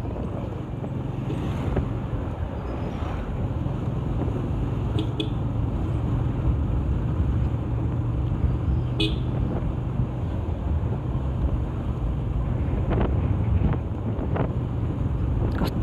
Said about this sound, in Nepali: यस्तो हावा चल्या हो, म त पागल हुन्छु यार।